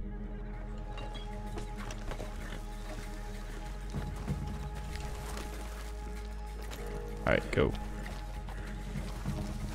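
Horse hooves in the Western video game Red Dead Online clip-clop beneath near-constant voice chat and game ambience, with a short louder burst late on that may be a whinny or a mount being ridden.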